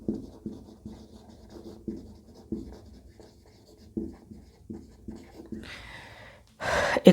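A teacher writes on a board during a Class 10 biology lesson on life processes, giving a run of short scratchy strokes at a steady rhythm with brief pauses, ending in a louder burst of noise.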